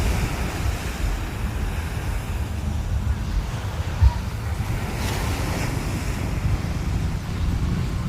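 Steady surf washing in at night along the shore of Pattaya, Thailand, a continuous low rumble with wind buffeting the microphone and one brief thump midway.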